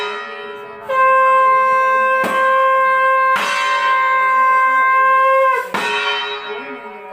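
Conch shells are blown during a Navratri aarti at home, making a loud, sustained, droning tone for several seconds. Metallic bell strikes ring out repeatedly alongside it.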